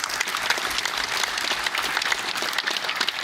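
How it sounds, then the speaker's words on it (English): Steady, dense applause from an audience at a 2017 World Minigolf Championships opening ceremony, a continuous wash of clapping held at an even level for the whole stretch. "One applause for them, please."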